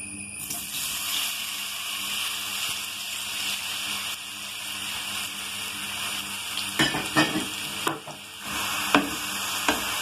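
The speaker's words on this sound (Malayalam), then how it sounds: "ഇപ്പോൾ നമുക്ക് നെയ്യ് ചൂടായി വന്നിട്ടുണ്ട്. അതിനകത്തേക്ക് നമുക്ക് ഈ പഴം അരിഞ്ഞു വെച്ചേക്കുന്ന ഇട്ട് കൊടുക്കാം." Chopped banana pieces fry in hot ghee with a steady, bright sizzle throughout. Near the end a spoon scrapes and stirs against the pan in a few louder clinks. No voices are heard.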